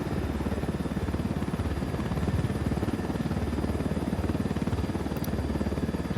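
A helicopter in the video game Ghost Recon Wildlands holds a steady, continuous rotor thump and engine drone, loud and close, with no break in the rapid rhythmic chopping.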